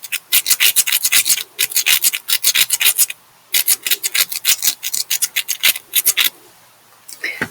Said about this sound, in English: And now we're going to rub these last two together, and it's going to make that scratching noise that doesn't sound so good.